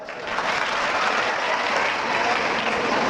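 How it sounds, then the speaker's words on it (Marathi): An audience at a motivational talk bursts into loud, sustained applause, a dense, even roar of many hands clapping throughout. "त्याच्यासाठी जोरदार टाळ्या वाजवा."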